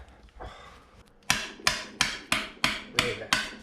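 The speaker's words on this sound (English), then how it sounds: "Jack's going to try to bust the screwdriver through it and pry it out" Seven sharp, evenly spaced metal-on-metal strikes ring out close and loud as a hammer drives a screwdriver through a rusted engine head part, preceded by a short stretch of quieter scraping.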